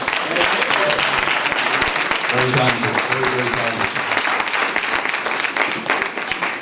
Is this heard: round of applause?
yes